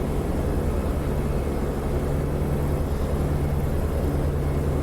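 Steady, continuous drone of a P-47D Thunderbolt's radial engine being throttled back to cruise power in the DCS World flight simulator, a dense low rumble with an even hum that holds unchanged throughout, with no talk.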